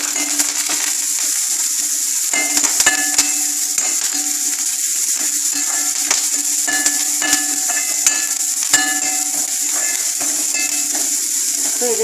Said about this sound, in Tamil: வெங்காயத்தை வதக்கிட்டு அதிலே கருவேப்பிலை போடணும்.